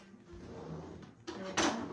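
A kitchen drawer pulled open while someone fetches a whisk: a quiet rumbling slide, then a couple of sharper wooden knocks and a clatter near the end, close by.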